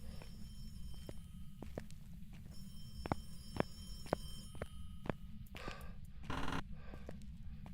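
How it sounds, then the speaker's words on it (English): A phone rings faintly inside the ghost-hunting game Phasmophobia, its thin high tone sustained behind a steady low hum, while sharp, irregular thuds of in-game footsteps land across the scene. "You hear it? Phone."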